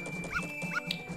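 A dog in Zelda: Majora's Mask barks in a quick run of three or four short yaps, close and moderately loud, over a steady game background tone, with no talk.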